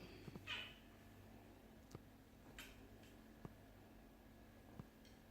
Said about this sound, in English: The squeaking is my kittens.